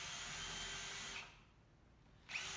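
A power drill fitted with a countersink bit, working on a sanitiser station build, whirs steadily at close range, drops away briefly, then spins up again.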